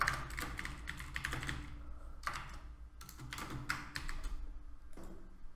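Quick bursts of typing clatter on a computer keyboard while writing PHP code for a MySQL database, close and fairly soft, with short pauses between runs of keystrokes.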